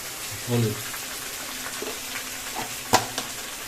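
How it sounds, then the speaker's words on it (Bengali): Potatoes and onions stirred and fried in a pan for a fish curry, a soft steady sizzle with a few scraping stirs and light clinks, fairly quiet and close, with a brief hum of a voice near the start. "এবার আমি আস্তে আস্তে করে এই আলু পেঁয়াজ নাড়িয়ে নিচ্ছে ভেজে নিব"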